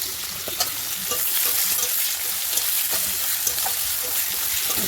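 Chopped onion fries in hot oil after tempering spices, giving a loud, continuous crackling sizzle with scraping stir strokes scattered throughout and no talking.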